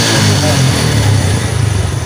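A Yamaha Jupiter motorcycle engine revs loudly up close, a throbbing low roar that pulses and swells, ending in quick choppy bursts of throttle.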